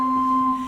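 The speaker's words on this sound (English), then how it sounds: "you can combine those with the 8-foot stop and then the 2-foot stop." A steady pipe organ middle C with the 8-foot and 2-foot stops combined, two clear tones stacked an interval apart, held evenly and loud for under a second, with no talking.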